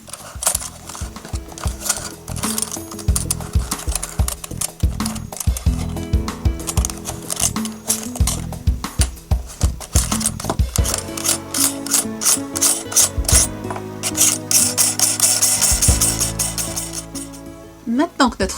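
A lamp socket is screwed together and assembled by hand for a homemade lamp base, with close, busy scraping, rubbing and ratcheting clicks of threaded parts turning, continuous throughout.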